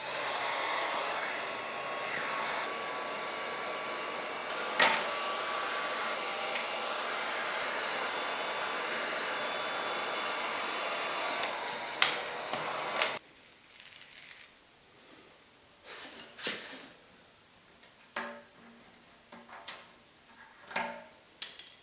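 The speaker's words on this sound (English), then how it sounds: "This is a heat gun" A heat gun blows hot air in a steady, fairly quiet whoosh to loosen an emblem on an Indian Scout motorcycle, then stops, leaving faint handling clicks and taps.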